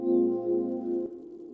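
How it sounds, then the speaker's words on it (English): A Spitfire Percussion Swarm sample run through an El Capistan tape delay pedal gives a sustained, tonal drone that holds steady and then drops to a quieter, fading tail. "another Spitfire thing called Percussion Swarm. And I ran both of those through my El Capistan pedal"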